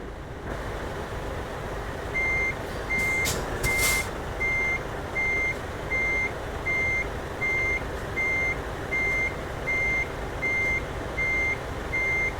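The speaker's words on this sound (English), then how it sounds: "It does have kind of a loud beeper on the back for reversing." A truck backing a trailer to a loading dock in Euro Truck Simulator 2 in Denmark gives off a loud, evenly spaced reversing beeper that pulses steadily over a low engine rumble, without any voices.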